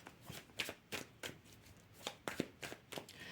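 Oracle cards handled and shuffled by hand, a string of quick papery riffles and soft slaps in a quiet room, close and fairly faint, with no talking.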